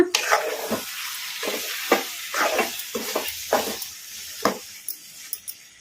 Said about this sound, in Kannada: ಇದನ್ನೆಲ್ಲ ಮೀಡಿಯಂ ಫ್ಲೇಮಲ್ಲಿ ಫ್ರೈ ಮಾಡ್ಕೋಬೇಕು. ಈಗ ಕಲಿಸ್ಕೊಂಡ್ಬಿಡೋಣ.